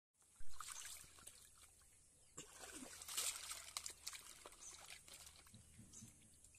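Water trickles and splashes over freshly cut fish as it is rinsed by hand in a village kitchen, a soft continuous pouring and sloshing with occasional louder splashes, close by and without talk.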